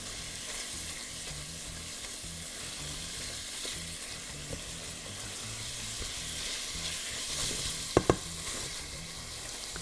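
Meat sizzles quietly in a pan for a green bean dish while a spatula presses and stirs it, a soft constant frying hiss with a couple of sharp spatula knocks near the end and no talking.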